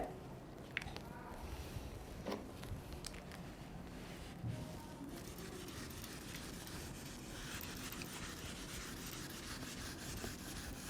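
A whiteboard is wiped clean during a Grade 10 trigonometry lesson, giving a steady soft rubbing and scraping that runs for about eleven seconds with a few brief knocks near the start.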